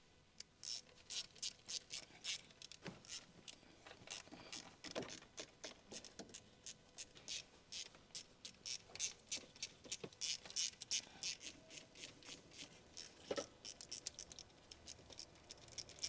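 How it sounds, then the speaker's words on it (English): A small ratchet on an 8mm long socket and extension removes the valve cover bolts on a Ford Explorer 3.5 engine. It gives faint, rapid clicking in repeated bursts, close by, with no talk. "Use a small 8mm long socket, a small extension bar, and a small ratchet."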